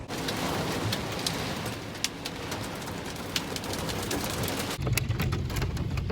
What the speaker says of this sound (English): And it is absolutely just pouring rain. It started hailing.